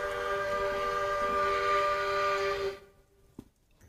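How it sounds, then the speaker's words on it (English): An LGB model Shay steam locomotive, No. 7, sounds a sustained multi-tone American-style whistle, steady and fairly loud for nearly three seconds before cutting off, followed by a faint click. "Let's listen to the whistle for a moment."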